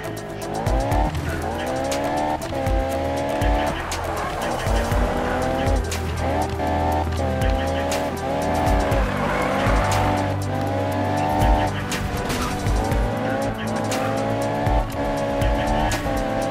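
A racing car in Need for Speed drives hard, engine revving up through repeated gear shifts with rising whines and tire squeals, loud and close throughout, with game music underneath.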